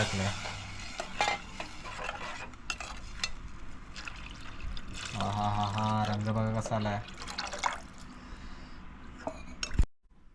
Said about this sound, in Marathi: आता बघा फोडणी आणि थोडस पाणी ऍड झालंय